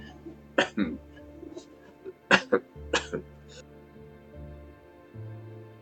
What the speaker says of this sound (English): Did some coughing